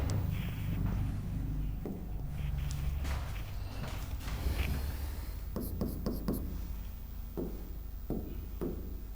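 A pen scratches steadily across paper as notes are written, with soft strokes and a few sharper taps near the end, over a low constant hum.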